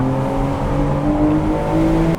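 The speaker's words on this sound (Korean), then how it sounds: "엔진과 PDK, 포르쉐 더프 커플링 클러치가 만들어내는 조화, 뛰어난 레브 매칭, 부드러운 연결, 신속한 체결" A Porsche 911 GTS with PDK transmission in Sport Plus mode, its engine droning steadily under load with rising and falling pitch, loud and close from inside the car, with no talk.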